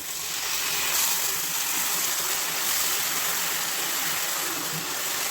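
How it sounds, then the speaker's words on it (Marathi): Water goes into a pan of frying masala of turmeric, chilli powder, coriander powder, goda masala and ginger-garlic paste with oil, giving a steady, even hiss and rush that lasts throughout at moderate loudness, with no talking. "थोडंसं पाणी घालू,"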